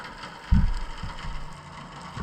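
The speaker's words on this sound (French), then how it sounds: "le bruit que vous entendez là depuis tout à l'heure, c'est des gros bateaux hein, qui passent au large" A low, steady rumble of distant container ship engines passing offshore drones under the whole stretch, with a heavier thump near the start.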